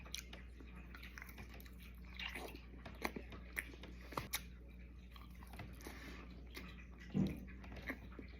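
Takoyaki with chewy octopus is chewed close to the mic, soft wet bites and crunchy squishes recurring irregularly over a quiet background.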